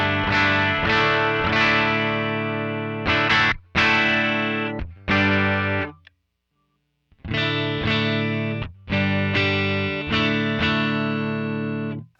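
Electric guitar played through an effects pedal with distortion, loud bursts of strummed chords with a brief gap of silence midway, no talking.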